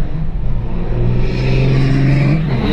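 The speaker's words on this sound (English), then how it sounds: "Look at that, Kenworth just ripped down the track." A Kenworth truck accelerates hard down a drag strip, a continuous loud low engine roar with a steady droning tone that holds and builds slightly, heard from nearby.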